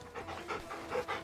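A dog in the video game Final Fantasy XVI pants steadily in quick, soft, close-up breaths that repeat for just over a second with no talk.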